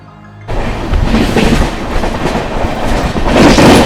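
An express train (20653 Belagavi Superfast Express, Bengaluru to Hubballi) rumbles loudly along the tracks after a sudden start, a steady rolling roar with clattering wheels building toward the end.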